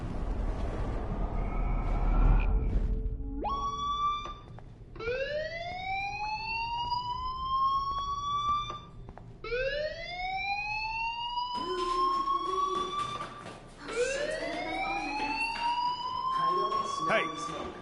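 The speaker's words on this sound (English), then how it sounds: "do you hear that fire alarm? That means you should be outside." Fire alarm from the video game Life Is Strange, wailing in repeated rising siren sweeps that each climb in pitch and then cut off, loud and persistent over game background sound.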